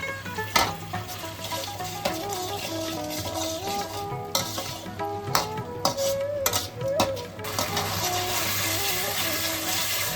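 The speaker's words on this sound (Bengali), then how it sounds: "আলু সহ মশলাটা খুব ভালোভাবে কষানো হয়।" Potatoes and spice masala frying in a pan for a potato and pointed gourd curry, with a continuous sizzle under repeated scraping and clinking of a metal spoon stirring against the pan.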